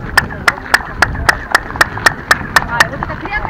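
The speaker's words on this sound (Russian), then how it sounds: "Когда хлопаешь." About ten sharp hand claps ring out at an even pace at the Chichen Itza ball court, each followed by a short chirping echo off the stone walls, with voices faint in the background.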